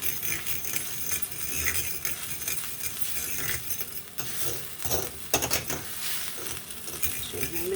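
Yellow vegetable rice being stirred in a pot, soft scraping and clinking of a utensil with faint sizzling, fairly quiet and close, with a few sharper knocks along the way.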